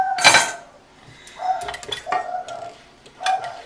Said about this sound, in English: If we can get our bowl off of here, there we go.